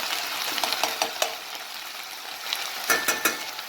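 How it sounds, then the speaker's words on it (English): Tomato paste fries in a pan with a bright, continuous sizzle, punctuated by quick scraping stirs and clicks of a utensil against the pan, close up and without talking. "you just want to fry that a little bit"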